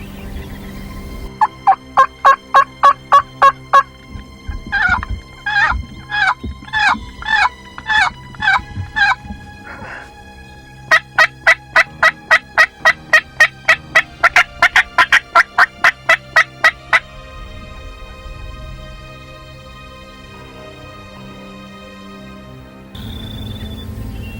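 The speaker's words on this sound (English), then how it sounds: "there's about 5 or 6 big gobblers in there. And one's still strutting up there on the roost" Several big wild turkey gobblers on the roost gobbling in rapid rattling bursts, repeated again and again, loud and fairly close in open outdoor air, with no talking.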